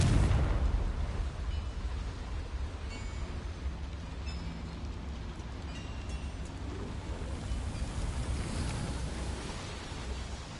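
A Confringo spell explosion in Hogwarts Legacy bursts loudly at the start, then fades into a long, low rumbling roar that lingers without speech.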